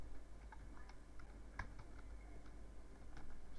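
Computer keyboard typing, light irregular key clicks over a faint steady hum, close and quiet with no talking.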